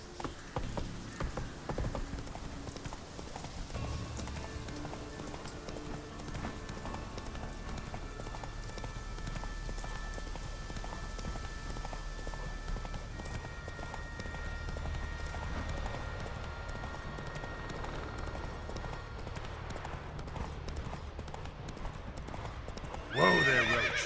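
A horse in The Witcher video game gallops in a steady, rapid clip-clop rhythm for the whole stretch, with whinnies mixed in over game music, close and prominent.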